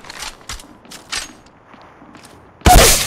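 R-301 Carbine gunfire in Apex Legends Mobile breaks out as a loud, close burst at the end, after a few soft thumps and footsteps.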